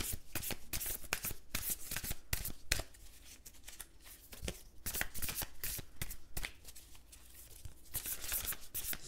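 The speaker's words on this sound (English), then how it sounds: "Let's go ahead and draw a manifestation card." Manifestation cards are shuffled for a card reading, a near, steady run of crisp riffling and slapping bursts that repeat through the whole stretch with no voices.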